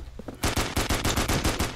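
Rapid gunfire in a Half-Life 2 Deathmatch match, about ten loud shotgun blasts in a fast, evenly spaced rhythm after a brief quiet start.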